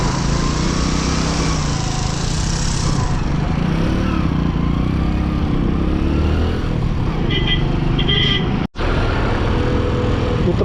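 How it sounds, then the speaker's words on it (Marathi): Vehicle engines idle and rumble continuously in a traffic jam on a road in Kashmir, with a small motor droning close by and a brief dropout near the end; no one speaks. "डेंजर असं ट्रॅफिक लागलंय इथं."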